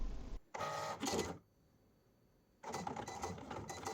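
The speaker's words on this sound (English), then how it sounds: "When the start button flashes, you can press it and it will start cutting your material" A Cricut Explore 3 cutting machine works through a sheet of material, its motor whirring close by in short busy bursts that stop for about a second before a steady run of mechanical buzzing resumes.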